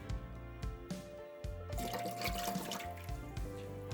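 Hot water runs and splashes as a matcha bowl is rinsed, making a close, continuous gurgling and sloshing with a few brief interruptions.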